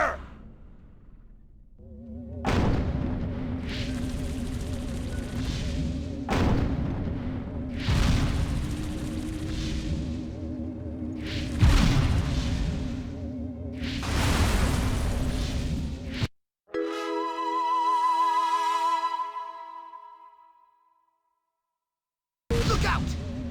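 Explosions and gunfire fill a Destroy All Humans! battle, heard as repeated deep booming blasts in long, rumbling bursts. A higher whirring, sci-fi weapon tone cuts in near the end before a sudden silence.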